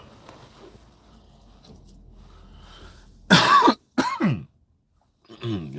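Several harsh, close coughs in quick bursts, loud against a quiet room, followed by a short throat-clearing.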